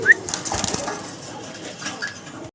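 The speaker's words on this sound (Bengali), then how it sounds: "পাকিস্তানি হাই ফ্লায়ার কবুতর" Pakistani high flyer pigeons coo at a farm, a soft busy murmur of calls with a brief bright chirp near the start and faint rustling throughout.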